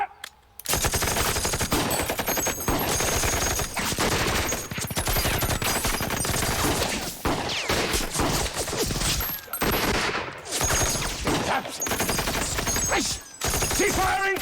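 A sustained, loud volley of rifle and machine-gun fire in a war film, with dense overlapping shots rattling almost continuously and only brief gaps between bursts.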